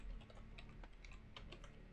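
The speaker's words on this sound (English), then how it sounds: "I don't know if me typing a link will work though in Twitch." Quiet typing on a computer keyboard, a quick irregular run of soft clicking keystrokes heard close but faint, with no talking.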